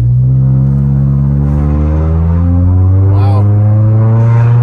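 A Chrysler 200 with the 2.4 MultiAir engine and an Injen cold air intake accelerates from inside the cabin, its loud, steady engine drone rising smoothly in pitch as a voice exclaims briefly over it.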